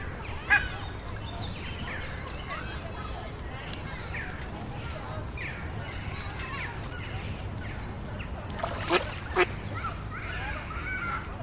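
Ducks quack intermittently around a busy lake in St James's Park, London, mixed with swans and other waterfowl calls and a steady crowd murmur, with a couple of sharper calls near the end.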